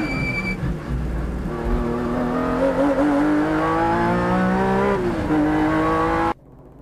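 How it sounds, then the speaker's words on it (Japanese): A 1994 Honda NSX race car at Le Mans roars at high revs, then drops rapidly through the gears to second with falling engine pitch on braking into Mulsanne corner, loud and close from the cockpit, before cutting off abruptly. "小高い丘を越え、一気に2速まで減速するのがミルサンヌコーナ"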